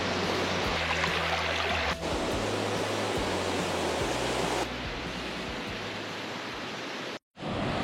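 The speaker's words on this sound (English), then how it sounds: "it was time to visit one of my favorite waterfalls on Vancouver Island" Steady, dense roar of rushing water fills the whole clip, loud and continuous from a nearby waterfall, the Three Falls on Vancouver Island, with a brief dropout near the end.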